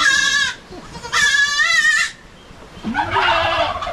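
Goats on a small farm bleat loudly and close by, two long wavering calls followed by a third, harsher bleat after a short pause.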